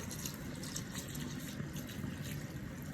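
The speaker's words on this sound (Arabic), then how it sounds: "وبعد كده هنزل عليها بكوبايتين من اللبن وكوبايتين من الميه. انا هحط اللبن بقى" Milk poured into a fish soup mixture in a pot, a steady soft liquid pour running continuously and close, with no talking over it.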